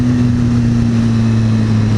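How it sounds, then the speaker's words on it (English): A Ferrari drives by on a street in Mexico, its engine giving a loud, steady droning hum with strong low tones throughout, no voices over it. "Ooh, Ferrari."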